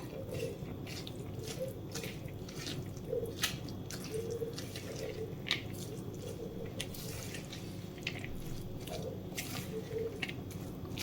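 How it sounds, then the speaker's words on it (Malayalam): Jackfruit vada batter being mixed by hand with chopped coriander leaves, ginger and other ingredients, giving soft, wet squishing and sticky squelching sounds in an irregular rhythm, close and fairly quiet. "ഇനി ഇതെല്ലാം കൂടെ നമുക്കൊന്ന് മിക്സ് ചെയ്യാം."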